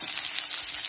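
Chopped onion hits hot oil already tempered with mustard seeds, cumin, curry leaves and chillies for a spicy oats dish, giving a loud, even, close-up sizzle throughout the short moment.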